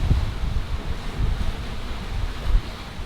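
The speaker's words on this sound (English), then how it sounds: "But getting out in the wind and doing it," Wind roars across a microphone aboard a sailing boat off New Zealand's coast, a steady rough buffeting with low gusty thumps and a faint wash of sea underneath, with no talk.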